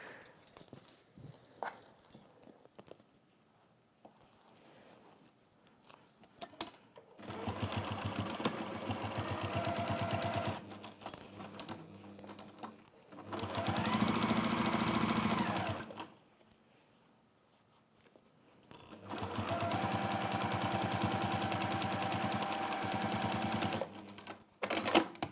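Sewing machine stitching velvet channels in place, three long runs of fast, steady needle rattle separated by quiet gaps with light handling noise.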